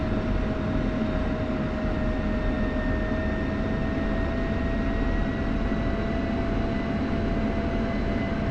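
An F-16 jet taxiing in the DCS flight simulator gives a steady, loud engine roar with a sustained whine on top, unbroken and close throughout with no talk.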